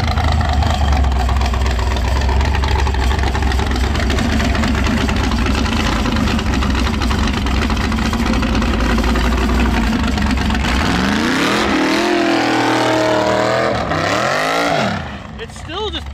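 A car engine carrying 1,300 pounds over the rear tires roars loud and steady at high revs during a burnout attempt, then drops and surges in uneven revving bursts near the end, with people talking over it.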